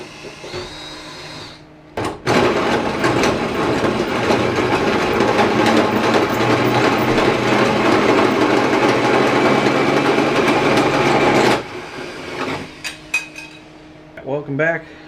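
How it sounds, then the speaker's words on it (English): A 3-inch hole saw cuts through the body of a Jeep Cherokee for a snorkel, a loud grinding, rattling roar lasting about nine seconds before stopping abruptly, followed by a few clanks and brief voices. "The hole saw that I used was a 3-inch."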